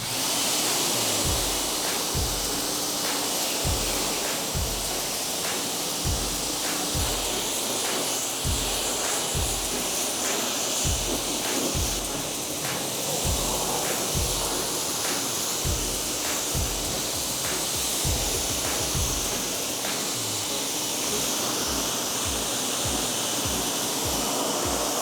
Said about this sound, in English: Do a thorough final rinse